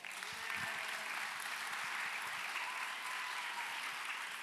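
An audience breaks into applause, a dense, steady patter of clapping that swells quickly and holds for several seconds in a large hall.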